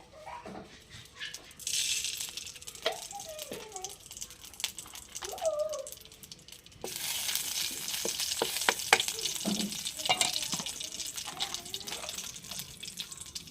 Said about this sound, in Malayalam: ചീനച്ചട്ടി ചൂടായിട്ടുണ്ട് നമുക്ക് കുറച്ച് നെയ്യ് ചേർത്ത് കൊടുക്കാം